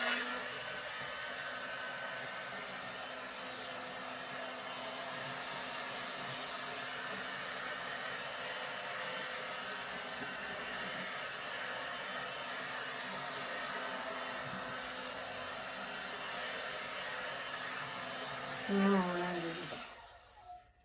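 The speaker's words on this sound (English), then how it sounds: "I'm gonna use my blow dryer" A handheld blow dryer runs steadily at home over freshly poured fluid paint, a constant airy whir that holds for about nineteen seconds before cutting off abruptly.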